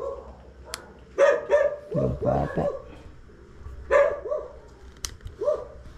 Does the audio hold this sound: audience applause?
no